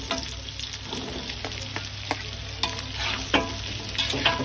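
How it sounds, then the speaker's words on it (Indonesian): Green beans with shrimp, chili and garlic are stir-fried in a pan, with a steady hiss of frying broken by repeated scrapes and clacks as the mixture is tossed, close and with no voices. "Kita tumis sebentar sampai buncisnya layu."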